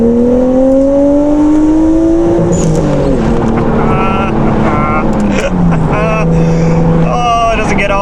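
A Nissan Skyline R34 exhaust revving hard toward 6,000 RPM on an open road, a loud, rising engine roar through gear changes with a voice speaking over it.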